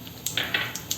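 Chana dal and urad dal dropped into a hot pan, a brief spatter of sizzling with a few quick crackles and light rattling pops, close and fairly soft.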